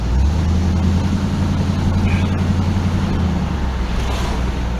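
A 1976 Ford LTD engine idling in gear at about 800 RPM, a loud, steady low rumble with an even throb, heard close and continuous with no talking.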